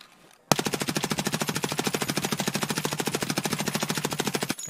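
An MP5 submachine gun in Escape from Tarkov fires one long sustained burst after a brief quiet start, a rapid, even rattle of loud close shots that runs to the end.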